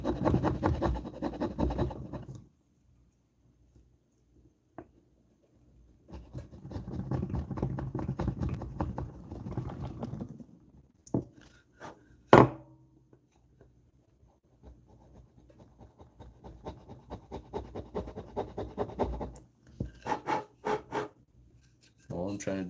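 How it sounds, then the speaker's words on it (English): A flathead screwdriver used as a chisel scrapes and rasps against wood in several rough, close bursts. Pauses, a few sharp knocks and some clatter break them up, and someone talks at times between the strokes. "if you have a flathead that's not being used for anything and you need a chisel, they do work"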